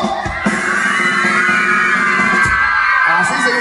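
Triqui children at a baptism celebration shout and whoop together in a loud, continuous crowd of voices, with adults talking among them.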